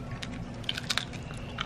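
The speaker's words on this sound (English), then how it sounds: "When girls eat chips. That would be a good one. Crunch with me." Crunchy chips being bitten and chewed close to the mic, a quick series of sharp crisp crunches scattered over a low background hum, with no talking.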